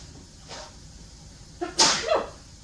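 A single sharp human sneeze bursts out fairly close in a quiet kitchen while food is being prepared, preceded by a softer intake of breath and trailing off quickly.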